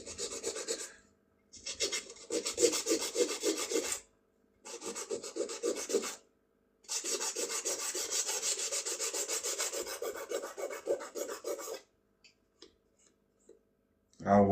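Sandpaper rubbed by hand in several long bursts of rapid back-and-forth rasping, close and clear, with short pauses between strokes and a few light ticks near the end.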